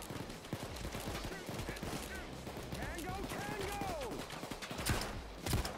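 Rapid gunfire from the video game Payday 2, with sharp shots in quick bursts over a busy mix of game sounds and faint voices.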